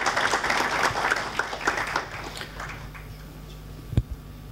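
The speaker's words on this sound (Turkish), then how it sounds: "Bir alkış hak ediyorlar bence arkadaşlar." Applause from a seminar audience at a software product launch, a dense burst of clapping that thins out over a few seconds, ending with a few scattered claps and a sharp knock.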